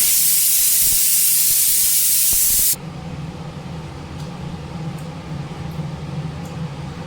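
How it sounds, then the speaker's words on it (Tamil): Fennel seeds and a cinnamon stick sizzle in hot oil in a kadai for a jackfruit-seed kootu. A loud, dense hiss drops suddenly to a quieter, steady sizzle with faint pops. "சோம்பு பொரிஞ்சிருச்சு"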